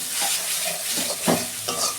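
Spice masala sautéing in oil for a potol curry with yogurt, a continuous close sizzle with scraping spatula strokes stirring the pan, no voices over it.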